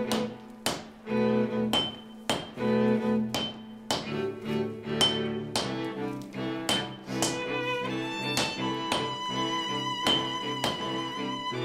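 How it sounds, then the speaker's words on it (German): A hammer strikes a katana blade being forged, sharp ringing metallic blows in a steady rhythm, loud and close, each hit leaving a bright resonant tone with no talking. "Der Rest wird mit dem Hammer herausgeschlagen."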